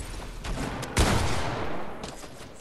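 Gunfire in the video game Fortnite from an enemy shooting underwater: a burst of several sharp shots with one louder crack in the middle, close and noisy, over a constant game background.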